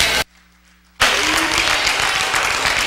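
Church congregation applause bursts in loud and dense after a brief quiet gap, then carries on as steady clapping to the end.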